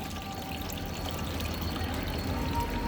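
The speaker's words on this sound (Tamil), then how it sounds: "நல்லா பாருங்கள், தண்ணி வடிகட்டிகிட்ருக்காங்க பாருங்கள்." Water steeped with vegetable peels is poured and filtered to make natural plant fertilizer, giving a steady, close pouring stream that runs unbroken for the full stretch with no voices.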